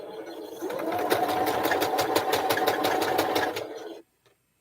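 A sewing machine stitching a Christmas quilt runs in one steady, fast-buzzing burst for about four seconds, close and fairly loud, then stops dead into silence.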